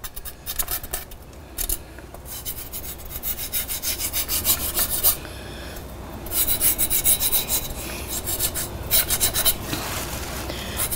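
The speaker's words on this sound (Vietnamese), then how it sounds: "Bây giờ mình cạo rửa." A small knife scrapes the skin of a pig ear while it is being cleaned. Close, rasping strokes come in a quick, uneven rhythm with no talking.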